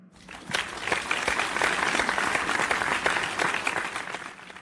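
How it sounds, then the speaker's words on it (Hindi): Enthusiastic audience applause breaks out on a cartoon quiz show after a contestant answers correctly, a dense, loud wash of many hands clapping that swells quickly and holds steady for several seconds before easing off. "एक बार जोरदार तालियां हो जाए"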